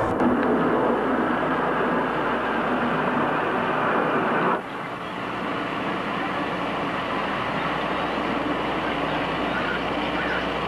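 A recorded helicopter circling overhead gives a steady, droning rumble that holds for several seconds, then drops slightly in level and carries on more softly.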